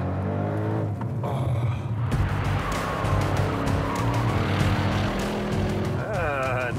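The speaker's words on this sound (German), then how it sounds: "großes Driften hier jetzt auf einmal." An Audi RS6 drifts through a cone slalom on a large airfield runway, its engine roaring loudly and steadily while tires squeal in rising and falling sweeps, with a commentator talking over it.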